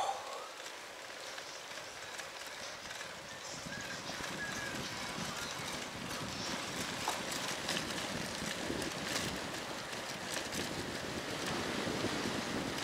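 Strong headwind buffeting the microphone on a small boat near İçmeler, a continuous rough roar and flutter lasting the whole stretch, loud and close, with the water and engine buried beneath it.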